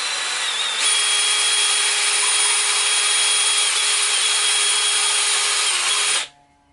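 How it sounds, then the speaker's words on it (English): A power drill runs steadily on a 3D printed part for a lightsaber-style prop hilt, lowering it with a loud, continuous whine for about five seconds before stopping abruptly. "Walk my drill down."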